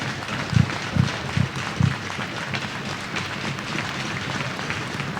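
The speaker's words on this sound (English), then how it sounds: "And a standing ovation from the crowd in attendance." Hockey crowd giving a standing ovation during a military appreciation honor, with a few sharp thumps early on and then a steady wash of applause and crowd noise.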